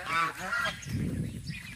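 A duck honks loudly in a few harsh, close calls over a short stretch, mixed with background noise.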